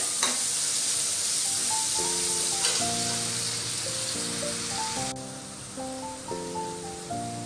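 Onions with a little salt sizzle and fry steadily in a pan for pav bhaji, a loud, continuous hiss throughout with light music playing over it.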